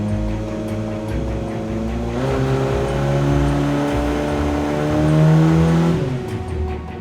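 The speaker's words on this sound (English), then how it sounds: "The noise of nitrous." A PT Cruiser engine on nitrous roars loudly and steadily during a drag race, pitch climbing as it accelerates hard, with a harsh, rising whine and no voices.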